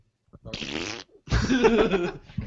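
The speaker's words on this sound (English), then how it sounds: "No, that's passing gas, man" Two drawn-out, raspy fart sounds ring out loud and close, the second longer and rougher than the first, with a brief pause between them.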